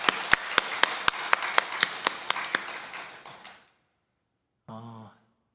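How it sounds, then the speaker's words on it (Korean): A church congregation claps in welcome during a Sunday service, a dozen or so sharp, evenly spaced claps over a brief applause swell that fades out, then a short voice. "우리 박수로 한번 환영하겠습니다."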